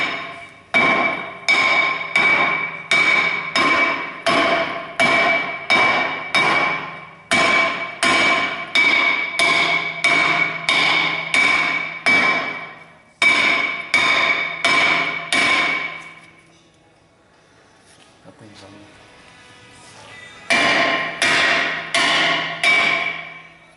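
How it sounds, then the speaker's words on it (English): Hammer blows striking a front brake disc on a 2006 Mercedes-Benz E350 W211 to shock it loose, a loud steady series of ringing metallic strikes in quick bursts, a short pause with a faint scrape, then more blows. "We're gonna try and shock the disc and just hit it all around evenly"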